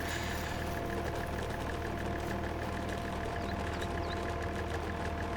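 A tractor engine idles with a constant, even rumble in Farming Simulator 22, unbroken and free of speech throughout.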